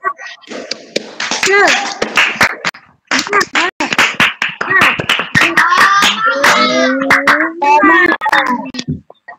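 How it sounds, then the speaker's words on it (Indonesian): A class claps a fast rhythmic spirit clap, sharp repeated hand claps mixed with children's voices chanting along, loud and close. "Kita tepuk semangat dulu ya"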